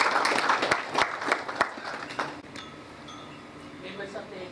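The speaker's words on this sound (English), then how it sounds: "Everybody put your hands together and give him a round of applause." A formal gathering's audience gives a round of applause, brisk and fairly loud at first with a few sharp individual claps standing out, then fading away within a couple of seconds into quiet room tone and a voice.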